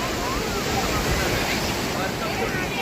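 A continuous roar of sea waves and surf at a crowded Tarkarli beach, loud and broadband with wind buffeting, and no distinct voices standing out.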